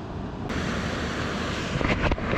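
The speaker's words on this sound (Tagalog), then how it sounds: "Malakas yung alon eh." Strong ocean waves surge onto a rocky fishing shore in Oman, a continuous broadband roar with gusty wind buffeting the microphone and no voices.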